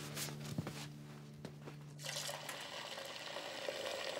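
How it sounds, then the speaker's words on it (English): Water running from a tap into a dog's water bowl, a steady near splash and trickle that starts halfway through after a few clinks and knocks, with no talking. "I'll fill up your water bowl"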